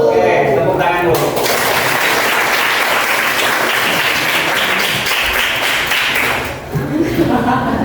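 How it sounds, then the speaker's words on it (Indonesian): A classroom of students breaks into loud, dense applause at a teacher's prompt, sustained clapping filling most of the moment with a short spoken phrase at the start and voices resuming at the end. "Oke, tepuk tangan dulu."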